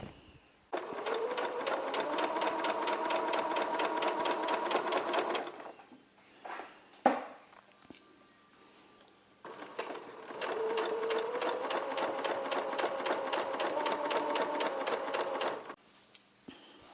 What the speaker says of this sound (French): maintenant je vais passer à la couture